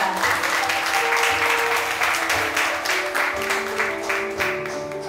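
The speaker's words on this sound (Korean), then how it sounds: "환영의 박수 부탁드립니다." An audience at an indoor meeting claps steadily and loudly to welcome a guest, with the dense applause holding for about five seconds and no voices over it.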